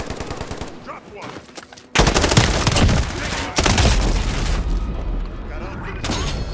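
Loud gunfire from Call of Duty Modern Warfare multiplayer: rapid automatic bursts and heavy booms crowd the scene, surging sharply about two seconds in and staying dense to the end.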